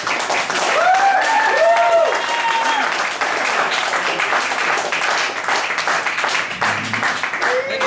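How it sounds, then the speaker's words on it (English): An audience breaks into sustained applause, a dense wash of clapping with a few scattered cheers, steady and fairly loud throughout. "make some noise for Mark Andrew"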